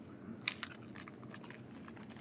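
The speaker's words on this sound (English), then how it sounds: "Where the food is, you're chewing up the food." Someone chews food with quiet, irregular crunching bites close to the mic, a few sharper clicks standing out over a low background hum.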